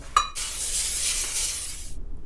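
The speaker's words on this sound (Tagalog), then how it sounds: "Haluin po natin yan." A spoon clinks once against a plate, then scrapes and stirs a tuna mixture with breadcrumbs in a steady, close, rasping swish for about two seconds before stopping.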